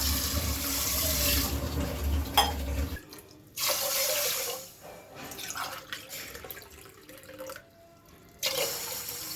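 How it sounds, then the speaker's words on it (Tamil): Green gram is rinsed under a running kitchen tap, the water gushing and splashing in several bursts separated by quieter pauses and drips. "ஒரு ரெண்டு மூணு வாட்டி கழுவிட்டு எடுத்துகிட்டு வந்துடலாம்"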